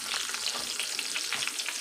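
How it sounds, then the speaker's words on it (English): Onions and peppers fry in a hot pan beside lamb chops, giving a dense, loud, continuous sizzle up close with no breaks. "Now to this, I'm going to add some onions and peppers."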